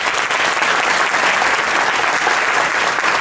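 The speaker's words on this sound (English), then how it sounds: "So big round of applause to Amod." An audience at a tabla concert during a classical music festival breaks into loud, sustained applause, a thick, even wall of clapping close and continuous for the whole stretch.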